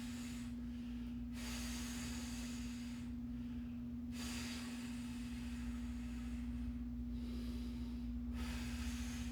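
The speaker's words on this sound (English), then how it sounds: "Breathe. Full inhale, full exhale." Slow, deep breaths during a stick mobility workout class, several long full inhales and exhales in an even rhythm, close and fairly soft over a steady background hum with no speech.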